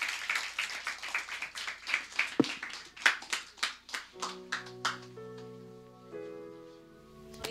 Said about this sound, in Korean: 우리 다시 한번 큰 박수로 환영하도록 하겠습니다